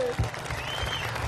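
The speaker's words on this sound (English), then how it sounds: "So give yourselves a round of applause," A crowd at an outdoor rally on the Gold Coast breaks into applause, a brief dense wash of clapping heard from the stage, with a voice briefly over it.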